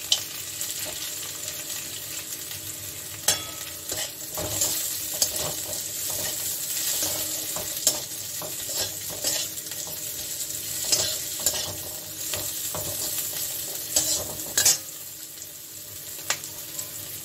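Green jackfruit fries with garlic and cashew nuts in a pan, a continuous close sizzle punctuated by frequent metallic clinks and scrapes of a spatula stirring at an irregular pace.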